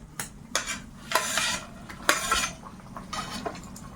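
Fried fish and boiled plantain and potato being stirred into a curry in a metal pan, with irregular spoon scrapes and clinks against the pan over a faint simmer, close and moderately loud.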